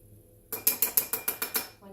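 An old adjustable kitchen measuring spoon, used for about ten years, is slid to a new setting, giving a quick run of about eight crisp, evenly spaced ratcheting clicks up close after a moment of quiet.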